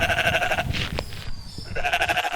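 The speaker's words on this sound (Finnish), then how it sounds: "Tytöllä on mukanaan 2 kovin karvaista lammasta." Two very woolly sheep bleat in a farmyard: a run of nasal bleats, a brief quieter pause, then more bleating near the end, close and fairly loud.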